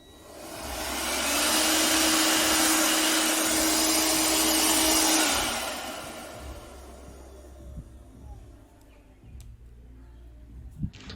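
A cordless air blower at maximum speed gives a loud, steady rushing whoosh with a faint tonal whine, holding for several seconds before winding down to a quieter hiss and a few light knocks.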